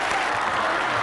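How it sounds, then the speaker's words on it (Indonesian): A brief burst of steady audience applause in a television game show studio, loud and dense, with no voice over it. "Tepuk tangan dong"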